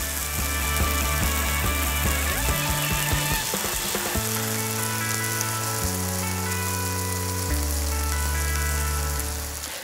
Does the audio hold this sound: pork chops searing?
yes